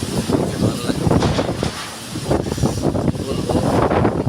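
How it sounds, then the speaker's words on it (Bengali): Gusty Kalbaishakhi thunderstorm winds rush continuously and loudly against the microphone, surging and dipping in uneven waves without any talk. "ঝড় উঠেছে"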